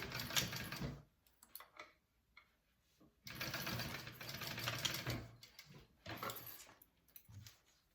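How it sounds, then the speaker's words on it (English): A sewing machine runs in several bursts of rapid stitching while sewing a zipper tab onto a pouch, pausing briefly between runs, close and fairly loud. "I'm gonna go ahead and sew that zipper tab on."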